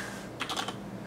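A short burst of keystrokes on a computer keyboard, a few quick clicks clustered in under a second, close and fairly quiet against a low steady hum.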